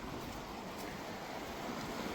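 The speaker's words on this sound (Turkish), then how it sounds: "burası da bizim köyün deresi" A village creek beside a cattle pasture, swollen after snowmelt, rushes in a constant broadband wash of flowing water, soft and unbroken, with no voices.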